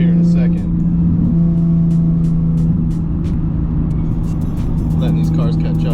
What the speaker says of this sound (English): We're gonna do a downshift and smash here in a second.